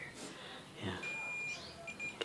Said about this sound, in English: Oh, beep.